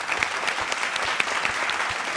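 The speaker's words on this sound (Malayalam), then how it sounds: "വലിയൊരു കൈയടി കൊടുക്കാം." Audience applause at a circus show, a steady dense wash of many hands clapping close by with a few sharper claps standing out, no voices.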